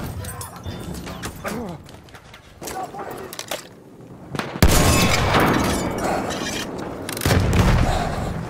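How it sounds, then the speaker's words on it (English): A grenade blast booms loud and broad in Battlefield 1, amid ongoing gunfire and battle noise, with a second heavy rumble following a few seconds later as voices shout. "Throwing a grenade!"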